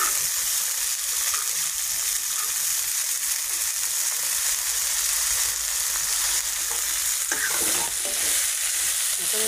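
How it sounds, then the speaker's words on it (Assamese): Potatoes and chickpeas frying in a pan, stirred steadily, with a continuous close, loud sizzle and a few scraping strokes near the end. "এইখিনি আমি 1-2 মিনিটমান ভালদৰে এনেকৈ ভাজি ল'ম।"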